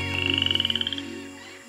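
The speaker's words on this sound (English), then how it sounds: "There's tons of poison dart frogs." A poison dart frog gives a rapid pulsed trill, a close, clear run of quick evenly spaced chirps that fades after about a second, over a low background hum with no talk.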